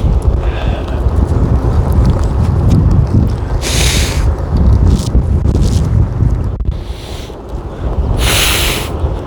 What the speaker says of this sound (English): This wind is like an allergy reliever, it must be.